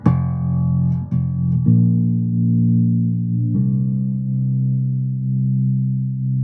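Sustained Steinberger XT25 electric guitar notes and chords ringing out in a long, spacious cathedral reverb, a few plucks blooming and decaying slowly, no voices.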